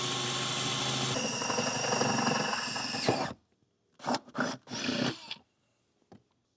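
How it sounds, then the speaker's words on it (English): A power drill bores a hole in a vehicle's front end while mounting a flat-tow brake system, a loud continuous grinding whir that cuts off, then three short bursts. "So I'll start drilling our hole."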